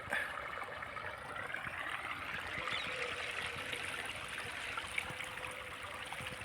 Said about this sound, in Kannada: ನೋಡಿ ನೀರು ಬರ್ತಾಯಿದೆ.